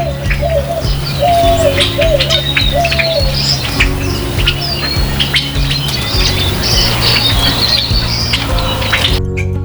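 Birds gather at a feeder by the visitor center of Patagonia Lake State Park on a winter morning, a dense close chorus of dove coos, chirps and squawks overlapping continuously.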